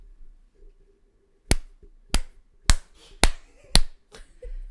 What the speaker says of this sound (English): whoever's gonna clap now